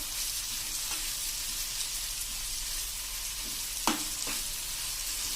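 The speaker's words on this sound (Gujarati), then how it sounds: "હું અત્યારે કાંદા તૈયારી છે ત્યારે જ હું આ પેસ્ટ એડ કરું છું" Onions frying with tamarind paste for onion chutney in a pan over a slow-to-medium flame, a steady close sizzle broken by a few stirring scrapes, with no talk.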